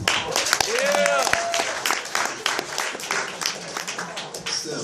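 A comedy club audience answers with scattered applause and whoops, a burst of clapping mixed with cheering voices and a shouted reply that trails off into thinner claps.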